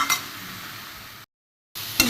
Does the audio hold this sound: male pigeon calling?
no